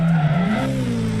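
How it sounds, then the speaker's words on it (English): A car drifts in the arcade racing game Drift King, a steady engine drone with a sliding tire squeal that bends in pitch over about a second, heard alone. "Drift King is an arcade drift racing game that has a variety of races and a big open world to explore"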